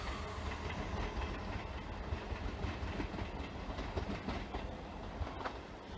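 Empty train passing through Salisbury station, a loud, continuous rumble with rattling clickety-clack of wheels over rail joints and some hiss, close by and filling the scene without talk.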